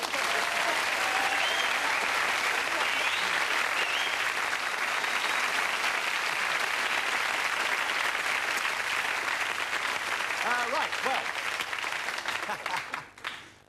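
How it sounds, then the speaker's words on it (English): A studio audience at a British comedy sketch show breaks into loud, sustained applause that fills the space for many seconds, with brief voices near the end as it fades. "Can we have a round of applause?"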